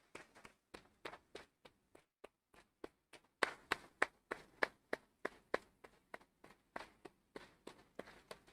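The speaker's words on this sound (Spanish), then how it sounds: "un aplauso fuerte" Scattered, sparse claps from a small audience at an honorary doctorate ceremony for an engineer, distinct sharp hand slaps in an uneven rhythm, briefly thickening in the middle, then thinning out.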